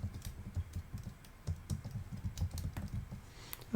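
Typing on a computer keyboard, a steady run of quick, soft key clicks close by with no voices.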